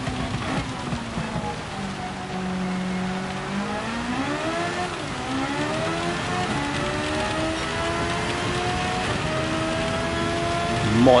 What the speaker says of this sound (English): Wow, that's a lot of rain coming.